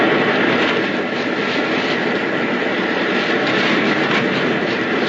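A propeller airplane drones steadily overhead in an old radio drama, a loud, continuous engine hum that holds at an even level throughout, with no voices over it.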